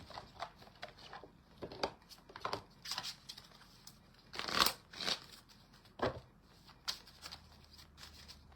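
Angel Rose Oracle cards are shuffled by hand in uneven bursts of soft papery rustles and slaps, close and fairly quiet, with brief pauses between shuffles.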